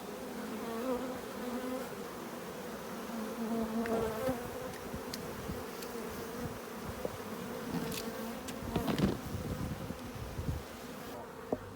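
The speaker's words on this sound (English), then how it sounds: "there's bees coming out of it" Honey bees swarm around a hive built into a flat roof, a steady close buzzing drone with individual bees zipping past the microphone, rising and falling in intensity.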